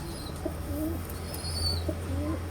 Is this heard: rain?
no